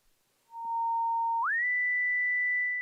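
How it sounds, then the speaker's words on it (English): A self-oscillating synthesizer filter on a Future Sound Systems Cric gives a pure, whistle-like electronic tone that holds steady, then glides smoothly upward to a higher pitch and sustains, clean and alone. "So I'll then get the filter to self-oscillate."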